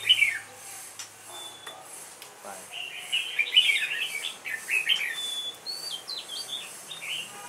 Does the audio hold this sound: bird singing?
yes